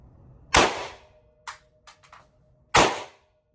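Glock 17 pistol fired at an indoor shooting range, two loud sharp shots about two seconds apart, with fainter clicks and clatter between them.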